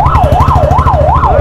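An ambulance siren wails in a loud, steady rising and falling cycle, close by, over the low rumble of idling engines in heavy traffic.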